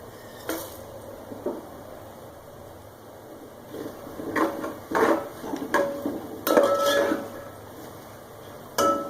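Whole spices, green and black cardamom, cinnamon, star anise, black cumin, cloves, peppercorns and bay leaf, stirred in a cooking pot for chicken biryani, giving scattered metallic scrapes and clinks, some louder, over a quiet background.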